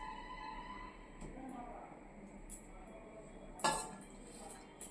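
Dishes and utensils clinking faintly as hot rice is served at home, soft scraping and light taps with one sharper clink near the end, all under quiet talking.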